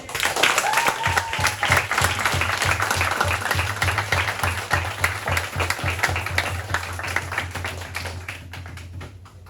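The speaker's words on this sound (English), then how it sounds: "Alright, just one more round of applause for the new commanders." Applause at a drum corps end-of-year speech event, a dense round of clapping from a gathered group, with a steady low drum-like thumping underneath and faint voices.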